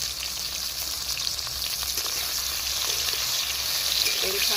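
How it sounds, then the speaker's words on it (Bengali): Eggplant pieces fry in mustard oil in a hot kadai, giving a steady, loud, close sizzle with a dense crackling hiss that holds evenly throughout. "আগে বেগুনগুলো ভেজে নিচ্ছি।"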